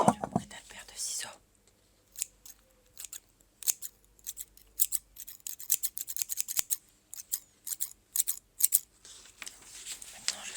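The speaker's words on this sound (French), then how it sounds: "Écoutez le bruit d'un paire de ciseaux." A pair of scissors snips repeatedly, close and crisp, in irregular clusters of sharp cuts with quiet gaps between, after a soft whispering voice at the start.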